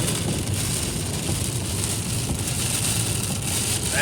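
Rain in a storm with tornado warnings, heard from inside a moving vehicle: a dense, steady broadband wash of rain drumming on the body and windshield, loud and continuous with no talk.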